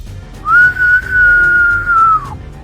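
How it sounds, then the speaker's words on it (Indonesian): Loud, melodious bamboo flute effect in a martial-arts audiobook drama, one sustained clear tone held for about two seconds with a slight swell and tail-off, standing alone over a quiet background. "tiba-tiba terdengarlah tiupan seruling yang keras tapi merdu"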